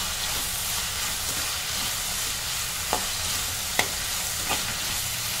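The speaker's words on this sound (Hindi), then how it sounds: "इसी समय डालेंगे हम इसमें एक बड़ा चम्मच धनिया और आधा चम्मच किचन किंग मसाला, ये इसमें हम डाल देंगे और अच्छे से मिक्स करेंगे" A pumpkin curry fries with a steady loud sizzle and hiss as coriander and Kitchen King masala are stirred in, with a few sharp spoon scrapes against the pan.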